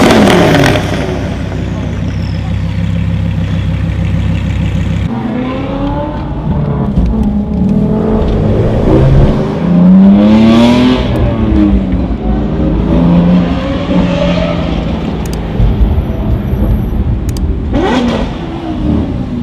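A powerful 1060 whp BMW M5 engine revs and roars, rising and falling in pitch over a steady low rumble, with people talking over it.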